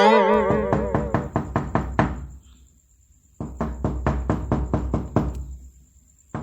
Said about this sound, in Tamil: யார் இந்த நேரத்தில் கதவை இப்படி தட்டுறாங்க